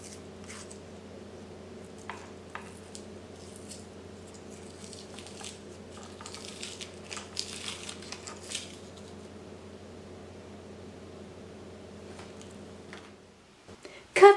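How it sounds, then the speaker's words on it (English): An onion being peeled by hand in a home kitchen gives soft, faint papery crackles and squishes over a steady low hum, busiest midway through, with no talking. "Let's peel the onion."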